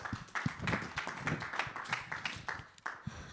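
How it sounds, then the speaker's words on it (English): An audience at a North America Summit claps for a panel about to begin, with a steady patter of distinct hand claps that stays fairly even over a few seconds with no talk. "please a round of applause for this panel so we can begin"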